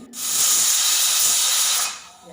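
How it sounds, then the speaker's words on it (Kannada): A pressure cooker whistle sounds while avarebele kichadi cooks, a single loud, steady hissing blast of steam lasting about two seconds before cutting off. "ಈಗ ಕುಕ್ಕರ್ ಎರಡು ವಿಸಲ್ ಬರ್ತಾ ಇದೆ"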